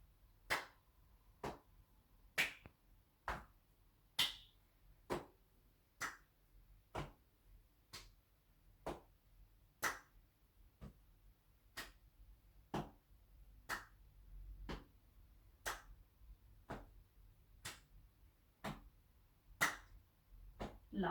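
Rhythmic taps and claps from a chair-based exercise routine, about two dozen crisp, evenly spaced hits close by at a steady pace, with no talking.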